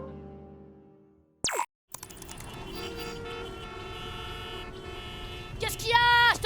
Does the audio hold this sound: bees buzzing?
no